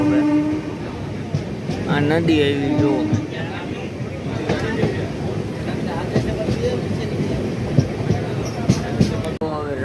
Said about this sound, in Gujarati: ટ્રેન ચાલુ થઈ ગઈ મિત્રો